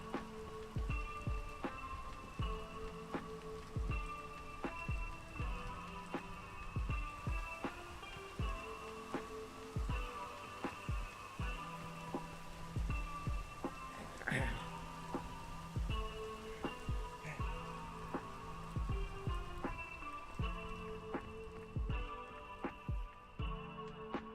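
Rainstorm in a video game, with steady pattering raindrops on surfaces and scattered sharper drips over a soft continuous hiss, even and moderately quiet throughout.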